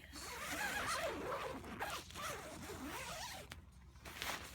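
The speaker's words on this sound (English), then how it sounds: "I can find the zipper." Continuous rasping of a Coleman Highline II dome tent zipper being pulled open along its fabric track, close up, with short pauses and uneven speed as it travels.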